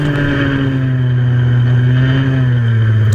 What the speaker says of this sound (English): Just got to absolutely chuck the go-kart in sideways to get the temperature up in the tyres.